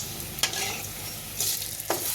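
A traditional homestyle dish frying hot in a pan: a continuous close sizzle, broken by a few brief scraping stirs.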